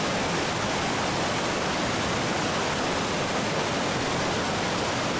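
Eurobin Falls' Small Falls on Mount Buffalo, running strongly, gives a steady, loud broadband roar of falling water that holds unbroken throughout, with no voices.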